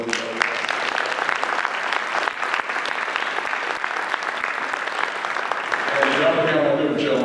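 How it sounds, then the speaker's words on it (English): An audience at a governor's economic forum applauds steadily, with sustained mid-level clapping throughout and a voice beginning to speak over it near the end. "I think we should all give Jill a round of applause"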